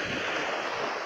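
Sea waves wash and roar along the English coast at high tide, a steady broadband surf rushing close and loud without a break.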